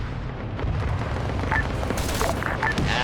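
An incoming tank round hits during an Arma 3 armored battle, with dense, rumbling gunfire and booming impacts. Sharper reports and metallic pings cut through the sustained roar.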